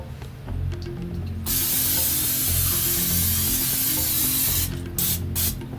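Oil sprayed onto a duck before smoking hisses in one long, loud continuous burst, followed by a few short spritzes near the end, with no talking.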